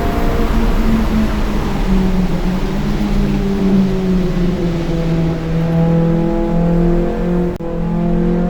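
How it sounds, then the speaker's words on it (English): A race car engine revs hard on a road course during an endurance race at Ridge Motorsports Park, loud and close. The pitch climbs steadily in repeated rising sweeps, with a brief drop near the end as it shifts. "Which we do by revving it out."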